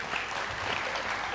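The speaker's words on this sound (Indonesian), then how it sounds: "tepuk tangan." A crowd applauds steadily at a junior high school graduation celebration held at a banquet venue, with dense, sustained clapping throughout and no voices standing out.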